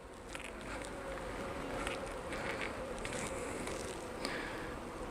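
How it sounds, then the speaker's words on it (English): Bees buzz steadily around an Australian beehive, a soft continuous drone with faint passing whines as individual insects fly close, over low outdoor background noise. "so bees often fly in and out, but they will always come back"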